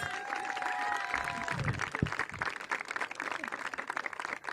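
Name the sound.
audience applause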